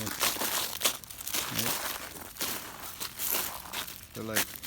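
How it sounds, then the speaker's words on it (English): Footsteps crunching on ice-coated, frozen grass after freezing rain: close, crisp crackling crunches in uneven bursts, with people talking in between. "Step on them and they crunch. Right? They're crunchy grass."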